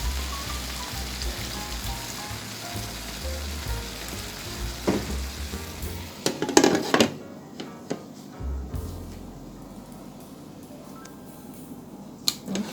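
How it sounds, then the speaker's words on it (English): Okra and string beans cooking in a pot with a little water for a Jamaican okra and saltfish dish, a soft steady simmering hiss with scattered pops and a few clanks of stirring, close and quiet. "okra and string beans don't take a long time to cook"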